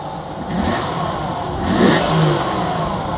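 Regal Mist Metallic 1981 Datsun 280ZX driving past and revving, a steady engine roar that swells as it passes by and then settles, mid-distance and fairly loud, with no talk.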